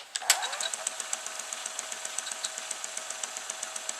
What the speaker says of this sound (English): now I'll show you the fast forward